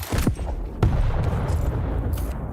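Quake grenade explosions in a championship match, a couple of sharp cracks followed by rumbling bursts and dense low-end blasts, loud and close with continuous game noise beneath.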